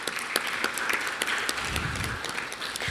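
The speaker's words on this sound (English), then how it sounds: "we have to give them a round of applause for that." A smaller crowd applauds a local cable company at its media launch event, scattered distinct claps over a light bed of clapping, fairly close and moderately loud throughout.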